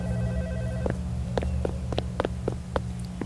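Telephone ringing in a horror video game: repeated electronic rings over a steady low hum, moderately loud and close, with no talking.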